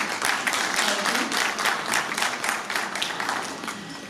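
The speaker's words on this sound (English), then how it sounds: "Please give a huge round of applause again." A room full of people at an international seminar applauds, steady clapping holding at an even level for several seconds, with faint voices mixed in.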